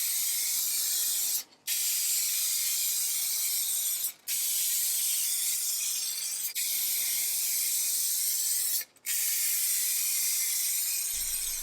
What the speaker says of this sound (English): Now that I'm spraying everything with clear satin lacquer